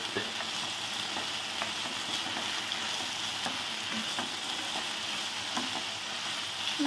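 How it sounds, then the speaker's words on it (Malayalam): Fried chicken tossed into a pan of soy sauce, tomato ketchup and chili sauce gives a steady, close hiss of sizzling, broken by small clicks and scrapes of stirring, with no voices. "നമുക്ക് ഈ വറുത്ത് വെച്ചിരിക്കുന്ന ചിക്കൻ അതിലേക്ക് ഇടാം."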